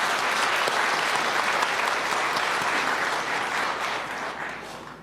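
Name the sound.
audience applause at Labor Day ceremony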